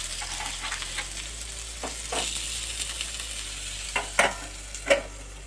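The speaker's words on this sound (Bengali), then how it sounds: "তো আমি বেগুনটা ভেজে নিই" Eggplant slices fry in a pan, a steady soft sizzle with a few sharp utensil taps and scrapes near the end, close and moderately quiet with no talking.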